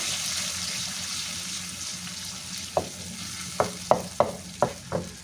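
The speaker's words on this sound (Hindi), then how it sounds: "1 टेबलस्पून अदरक का पेस्ट इसमें डाल देंगे। बिस्मिल्लाहिर्रहमानिर्रहीम। और इसे हम भून लेंगे।" Hot oil sizzles steadily in a pan as ginger paste fries, while a series of sharp scraping stir strokes come in quick succession toward the end.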